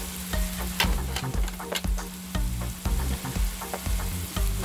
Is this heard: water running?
no